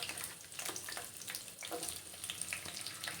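Thinly sliced onions fry in oil in a pan, giving a faint, continuous crackling sizzle with small pops throughout.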